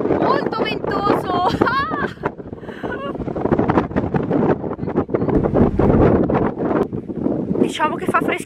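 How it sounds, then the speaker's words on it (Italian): Strong wind on Fuerteventura buffets the microphone in loud, continuous rumbling gusts, while a person talks through the noise. "Molto ventoso!"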